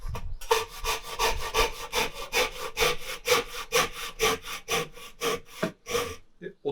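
Japanese hand saw rip-cutting a wooden tenon piece for a housed dovetail joint, with close, steady rhythmic rasping strokes that run continuously and stop near the end.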